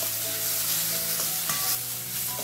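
Tomatoes and curry leaves sizzle steadily in an oil-filled pan, a close, continuous frying hiss with light stirring scrapes, no voices.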